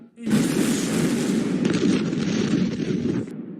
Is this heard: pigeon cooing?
no